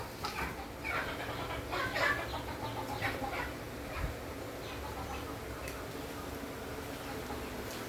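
Chickens cluck softly and intermittently inside a village coop, faint and scattered against a low background hum.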